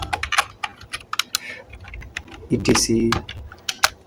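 Keys tapped on a computer keyboard while setting up a PowerPoint slide, a quick run of close, crisp clicks with pauses and a heavier Enter press, with a voice speaking between the bursts.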